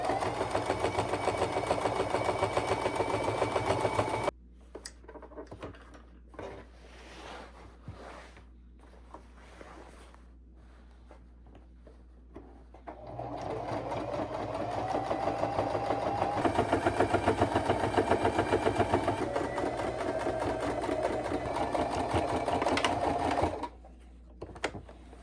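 A sewing machine stitches a tree shape onto fabric for a Christmas decoration, its steady motor whir running in bursts with a quieter pause in the middle, close and clear with no talking.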